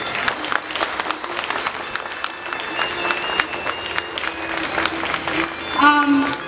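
An audience claps for a dance tribute performance to Uttam Kumar, with dense, steady applause at moderate volume that is even throughout, and a brief tonal sound near the end.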